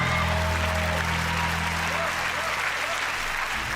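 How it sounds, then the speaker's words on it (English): Canned library applause on a TV show forms a dense, continuous wash of clapping that holds at an even level throughout with no breaks. "this has to be like an audio library of applause"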